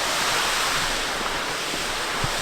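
A waterfall and stream in a forest make a continuous, close, broadband roar of rushing water that stays steady throughout, with no voices.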